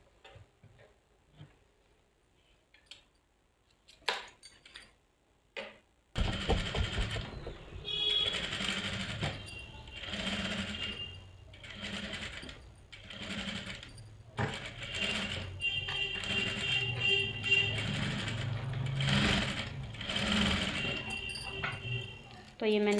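Sewing machine running in short bursts while stitching along a frock's folded neckline, the rapid mechanical ticking stopping and starting over steady low background noise, with a person talking between runs.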